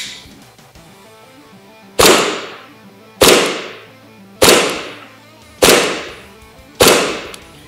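Five sharp cracks of a Specna Arms High Capa airsoft pistol fired through a chronograph, spaced about a second apart, each a loud close snap with a short decaying tail over a quiet background.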